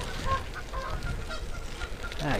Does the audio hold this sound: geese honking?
yes